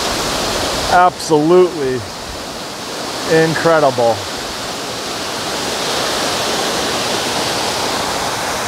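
Waterfall at Olyphant Reservoir in Pennsylvania, a loud close roar of heavy flow that runs steadily throughout, with someone speaking excitedly over it twice.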